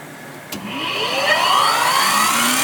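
A Myford MG-12M grinder motor spinning up close by, its whine rising steadily in pitch after a brief click and then holding a loud, even mechanical hum.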